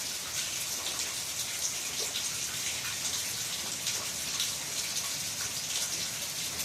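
Steady rain falls without a break, a dense hiss of drops striking nearby surfaces, with no voices.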